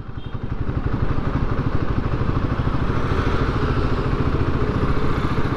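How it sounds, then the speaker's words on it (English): A Royal Enfield Himalayan 450 motorcycle rolling at low speed in third gear, its engine thumping steadily with an even, loud pulsing note heard up close and nothing else over it. "the motorcycle will keep chugging along"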